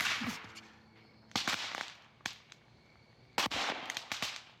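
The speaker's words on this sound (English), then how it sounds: "releasing flammable hydrogen gas, the H in H2O, which explodes when it mixes with air" Sodium explodes in a bucket of water with a string of sharp, loud cracks and pops in separate bursts, each with a short hiss trailing after it.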